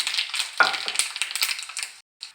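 Chana dal fries in hot oil with a close, busy crackle and sizzle that runs steadily before cutting out briefly near the end, followed by a short final burst.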